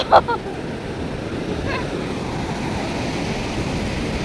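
Sea waves wash onto a rocky shore in a continuous, close surf roar, with a brief voice at the very start.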